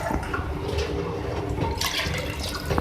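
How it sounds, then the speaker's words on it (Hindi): Water pours steadily into a pot of beef for a Pakistani bhindi gosht curry, a close, continuous splashing rush that grows brighter toward the end. "3 कप मैं पानी डाल रही हूँ ताकि जो गोश्त है हमारा गल जाए"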